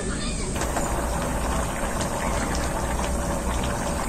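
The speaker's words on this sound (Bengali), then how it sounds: "এখন আমি পরিমাণ মতো জল দিয়ে দেব।" Water is poured into a simmering potato, chickpea and paneer curry in a pan, giving a continuous hissing, splashing wash of liquid sound throughout.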